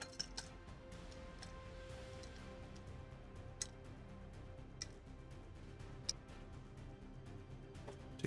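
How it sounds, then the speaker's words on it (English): Quiet stirring of a cocktail with simple syrup and ice in a mixing glass, producing faint, irregular clinks and ticks of spoon against ice and glass over a low background hum, with no talk. "And we're going to stir this for 30 seconds."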